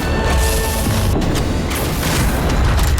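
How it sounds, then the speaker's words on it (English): A light bomb bursting in the game Nosgoth, a loud, dense explosive boom with crashing debris that fills the whole moment, followed by rumbling aftershocks. "Its explosion triggers a powerful blast of light that wounds vampires instead of blinding them."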